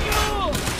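Shotgun fire in the action game Quantum Break, a dense, booming blast that fills the short moment, with a brief whistling tone sliding downward through it.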